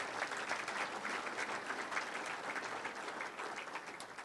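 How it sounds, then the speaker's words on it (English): Steady round of applause from an audience at the Growth Partnership for Ashtabula County Best of the County 2016 evening, dense even clapping at moderate distance that holds for a few seconds, with no talk over it. "can we get a quick round of applause for Holly?"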